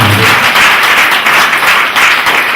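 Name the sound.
seminar audience applause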